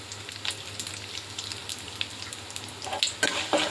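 Dried red chillies and curry leaves sizzle and crackle in hot oil during tempering for a carrot and raw mango pickle, a steady close frying hiss with sharper pops near the end, no talking.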